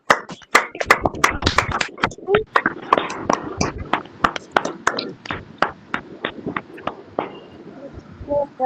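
A congregation at a Saturday prayer service claps in thanks: sharp, close hand claps in an uneven rhythm, mixed with scattered voices through the clip.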